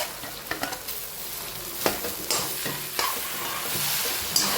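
Dhokla tossed and stirred in a hot pan with sesame tempering over a lowered gas flame, giving a steady soft sizzle broken by several scraping stir strokes, close and without talk.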